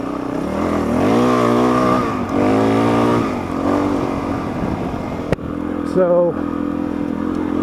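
Suzuki DRZ400 motorcycle engine revving during a ride, its harmonic drone rising and falling through several throttle sweeps close by, with a sharp knock and a brief higher rev near the end, while someone talks over it.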